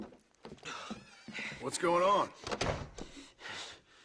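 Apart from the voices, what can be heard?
door being shut, from video game Red Dead Redemption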